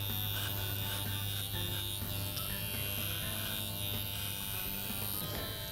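An electric hair clipper with the guard removed runs steadily while fading a client's hair and sideburns, a close, continuous motor buzz with a strong hum that holds for the whole stretch without talk.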